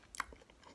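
Brief close-up crunch and wet chewing of a bite of fried shad fish, a single soft burst lasting under a second with no talk.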